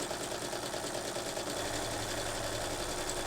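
An embroidery sewing machine stitches calligraphy lettering at high speed, giving a steady, even mechanical whir and rapid needle chatter that stay constant throughout, with no talking.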